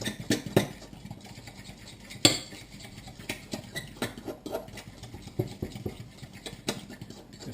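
A fork mixes injera batter into a smooth paste in a bowl, giving a steady run of quiet metallic clinks and scrapes with an occasional sharper knock against the bowl.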